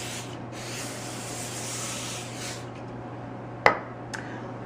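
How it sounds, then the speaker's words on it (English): Olive oil cooking spray hisses from a can onto a cookie sheet in a kitchen, a steady airy spray lasting a couple of seconds, followed by a sharp clink of the pan being set down. "I'm also going to spray my cookie sheet with a little olive oil cooking spray"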